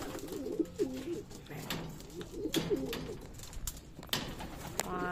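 Pigeons coo in soft repeated phrases close by, mixed with scattered clicks, rustling and a few brief background sounds.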